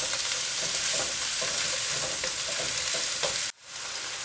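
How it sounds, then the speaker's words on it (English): Steady crackling sizzle of food frying in a pan, with light scraping and stirring strokes throughout, cut short by a brief drop near the end. "get this all stirred up. And we will continue the frying process."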